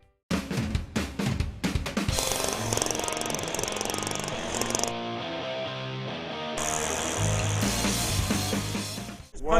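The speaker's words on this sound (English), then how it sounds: "This ice auger is priceless." Jiffy gas-powered ice auger drilling holes through lake ice, a loud continuous motor roar with sputtering as it starts, then steady drilling close by.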